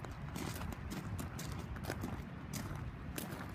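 Donkeys move about close by on a farm with plant nursery stock, their hooves clopping and shuffling in an uneven series of soft knocks over a low rustling background, with no clear talk.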